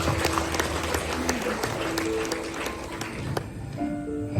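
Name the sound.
audience applause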